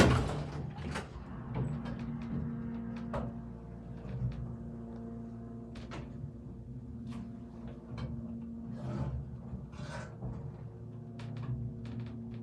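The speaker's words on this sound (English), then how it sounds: "Door closes when you push the button." A 1960s hydraulic elevator door at an apartment building in Chicago, Illinois slides shut, a series of soft knocks and clicks over a low machinery hum, with scattered faint thumps as it moves and settles.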